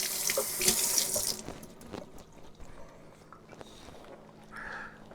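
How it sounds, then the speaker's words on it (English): Tap water runs into a kitchen sink while jalapeno peppers are rinsed to wash out their seeds: a loud splashing stream at first, then quieter trickling and handling sounds. "I'm going to run over to the sink and rinse it out"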